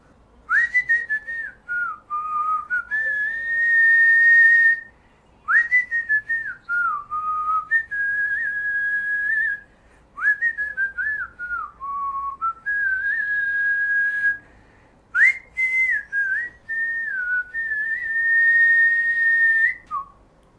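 A person whistles a melody, close and clear, in four long phrases separated by short breaths, with no other sound behind it.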